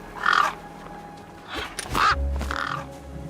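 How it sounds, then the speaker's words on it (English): A crow caws in the video game Beyond a Steel Sky, giving three harsh, fairly close calls: one at the start, then two in quick succession after a pause, over faint background ambience. "Ah, no! Damn birds!"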